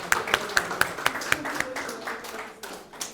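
A church congregation applauds a welcomed brother, crisp claps landing in a quick, steady rhythm that fades slightly as voices mingle in the room.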